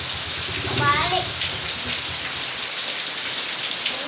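Steady rain falls outdoors, a dense even patter across the whole stretch, with a voice and brief speech at the start riding over the downpour.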